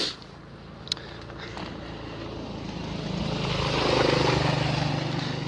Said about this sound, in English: Yes, there's a motorcycle.